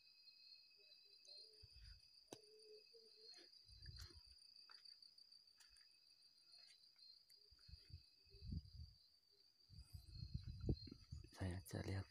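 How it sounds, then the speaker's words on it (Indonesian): Crickets chirp in a steady, thin high-pitched drone throughout, with low thumps and rustling bursts rising now and then beneath it, louder toward the end. "adanya suara jangkrik itu"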